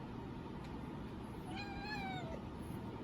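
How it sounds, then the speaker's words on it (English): A single drawn-out cat meow with a rising then falling pitch, heard up close over a steady indoor background hum, with no talking. "This is my cat."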